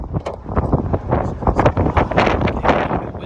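Gusty wind buffeting the microphone outdoors beside a left-hand-drive Benimar motorhome, a steady rough roar with irregular thumps and swells, loud and close throughout.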